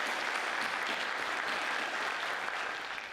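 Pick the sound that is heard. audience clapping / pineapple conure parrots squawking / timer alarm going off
audience clapping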